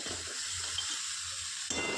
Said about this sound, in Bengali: এবার আদাগুলোকে একটু ভাজা ভাজা করে নিচ্ছি।